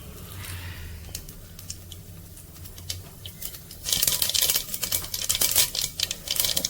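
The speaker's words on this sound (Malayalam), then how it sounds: "കടുക് പൊട്ടുമ്പോൾ" Mustard seeds pop in hot oil, first as scattered crackles, then as a dense, loud burst of rapid popping and spattering in the second half, with no voices.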